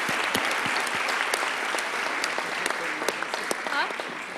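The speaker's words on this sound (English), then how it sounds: "Let's give them a big round of applause." Audience applause at a water conference in Germany, a steady, close wash of clapping hands lasting several seconds, with no one talking over it.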